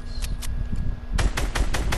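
Fortnite gunfire: two quick shots, a brief pause, then a rapid burst of about six sharp close shots in even rhythm, loud with no talk.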